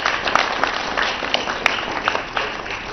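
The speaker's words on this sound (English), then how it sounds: "how about we give them a round of applause?" Audience at a karate families' performance evening in La Crosse, Wisconsin, giving a round of applause, a dense wash of clapping with a few sharper individual claps standing out, moderately loud and continuous.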